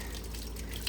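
Cold water runs from a hose or tap over a horse's swollen leg, a steady soft trickle with a faint drip near the end.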